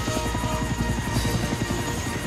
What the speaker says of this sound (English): With landing lights shining brightly, Harold the helicopter touched down gently in the snow,